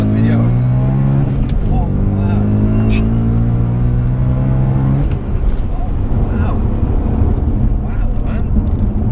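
Supercharged 650 bhp BMW M3 accelerating hard, engine note climbing steadily in pitch for several seconds before shifting, loud and close from inside the car, with a brief exclamation and talk over it.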